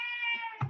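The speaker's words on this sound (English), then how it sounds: "sorry, that's my cat." A house cat lets out one clear, drawn-out meow, close and fairly loud, ending in a brief low rustle.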